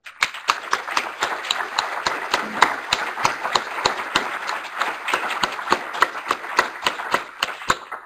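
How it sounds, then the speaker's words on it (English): An audience at a space science forum claps for an International Cooperation Medal recipient, a steady round of applause with sharp, rapid claps running evenly throughout. "I wanted to give her a round of applause"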